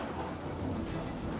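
Thunder rolls low and steady during heavy monsoon rain in Gujarat, mixed with dense, continuous rainfall noise and no voices.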